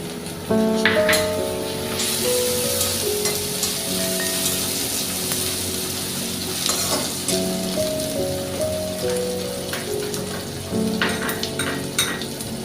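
Chopped green chillies hiss and sizzle in hot oil in a frying pan for a pabda fish dish, a continuous crackling fry with occasional stirring rattles, steady tones running underneath.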